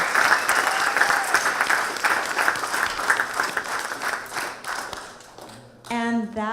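A large audience at a collegiate new-venture competition, the Scheinfeld Center New Venture Challenge, bursts into loud, sustained applause of many hands clapping together, fading briefly near the end as a voice begins to speak.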